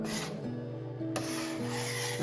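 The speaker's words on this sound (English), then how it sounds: "when you use the scraper, you just get this wonderful little pile" A bench scraper dragged across a countertop to lift dried bread dough, a close, dry rasping scrape in two continuous strokes with a brief break between them.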